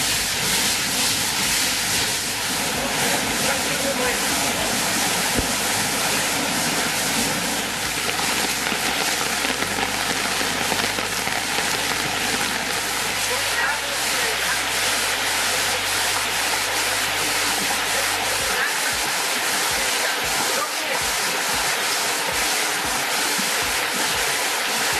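Floodwater rushing through the streets of a German town, a loud dense continuous roar and hiss of water that stays steady throughout, with a low rumble that drops away near the end.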